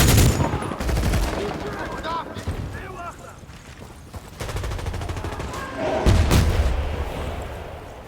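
M60 machine gun bursts in Medal of Honor 2010 multiplayer, several rapid rattling volleys separated by pauses, loud and close, with a voice talking over parts of the firing.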